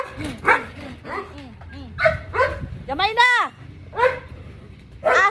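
Dogs named Mutsi and Winter bark in a string of sharp, close barks with a rising yelp in the middle, while people talk over them.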